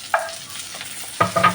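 Onions going into a pan of golden-brown garlic frying in oil, a close sizzle with two sharp bursts of clatter and hiss as ingredients are stirred.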